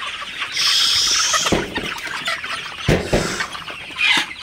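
Sonali super hybrid chickens cluck and squawk in short bursts at close range while drinking fresh water from a container around midday, with scattered knocks and rustling between calls.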